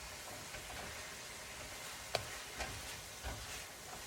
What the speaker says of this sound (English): We have our onions and our celery and our carrots. Sauteing up nicely.